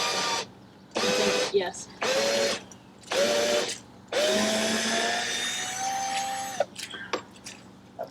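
A Black & Decker cordless power tool running low on battery while building a deck, whirring in repeated bursts of rising pitch that grow longer, with brief speech and clicks between.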